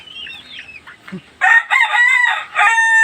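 A Rhode Island Red rooster crows loudly and up close, a long strained call, following faint clucking and quieter bird sounds.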